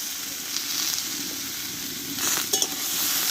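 Diced potato and pointed gourd sauté in hot oil with salt and turmeric, giving a continuous close sizzle, with a few stirring scrapes and light utensil clinks partway through.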